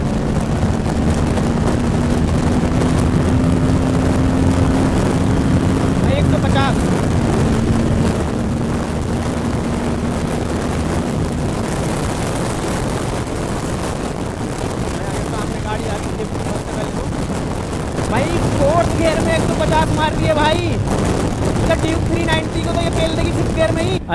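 An Aprilia RS 457 motorcycle launching at full throttle, the engine roaring loudly and steadily under heavy wind buffeting on the microphone, pitch climbing through the gears with a brief drop between shifts.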